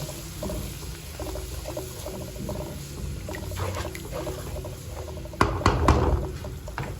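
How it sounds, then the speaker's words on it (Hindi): Yogurt fries in ghee in a pan with a continuous crackling sizzle, and a louder burst of spattering comes near the end; no one speaks. "दही का पानी खुश्क होने तक और घी ऊपर आने तक उसको फ्राई करेंगे हम"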